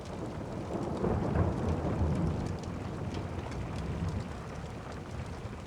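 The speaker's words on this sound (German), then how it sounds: "Zusammen erzeugen der Regen und der Donner eine einzigartige Symphonie." Steady heavy rain hisses around a cozy mountain hut, with low rolling thunder swelling and fading through the whole stretch; no voices are heard.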